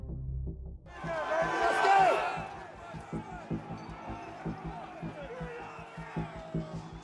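A crowd of rioters surging across the Capitol West Plaza, with a roaring swell of shouting voices followed by steady chanting and rhythmic thudding, dense and close.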